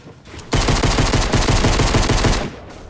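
Video game gunfire: a loud, sustained burst of rapid automatic shots lasting about two seconds, dense and close, then cutting off into quiet, with no voices.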